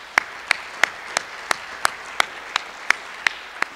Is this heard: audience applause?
yes